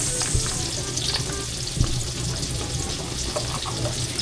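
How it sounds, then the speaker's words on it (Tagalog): Onion hits hot cooking oil in a home kitchen pan while making spaghetti sauce, giving a loud, steady, close sizzle with a few stirring clicks and no talk. "Ako po ay maglalagay na rin po ng mantika. Sibuyas."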